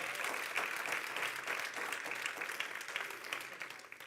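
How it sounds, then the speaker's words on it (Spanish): Church congregation at a revival service applauding together, a dense, even wash of clapping heard from within the hall, fairly faint and sustained, fading slightly at the end. "Vamos, denle un aplauso al Señor por eso."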